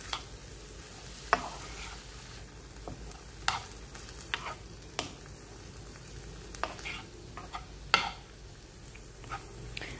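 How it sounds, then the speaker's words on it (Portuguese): Carrot, corn and onion sautéed in a pan, giving a soft, steady sizzle with scattered clicks and light scrapes of stirring at a moderate distance, no voices. "Aí a gente vai dar uma refogada aqui, ó, na cenoura, no milho"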